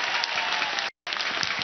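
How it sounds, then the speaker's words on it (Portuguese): Church audience applauding a priest at a religious gathering, a dense steady burst of clapping that stops briefly for a fraction of a second and then resumes just as loud. "Padre Ângelo merece uma salva de palmas"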